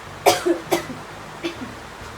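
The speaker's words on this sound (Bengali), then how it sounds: "একটু বৃষ্টিতে ভিজতে না ভিজতে কাশি হয়ে যাচ্ছে" Three short coughs from a person with a cold caught after getting wet in the rain, close and unaccompanied, spaced unevenly across two seconds with quiet room noise between.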